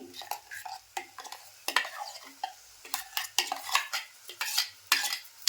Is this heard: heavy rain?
no